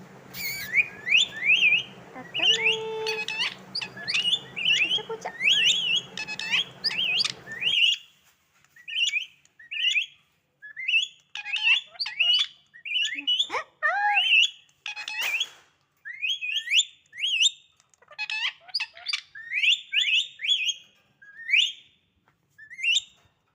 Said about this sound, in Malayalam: പിന്നെ തത്തയോടൊക്കെ കുറച്ച് നേരം സംസാരിച്ചിരുന്നു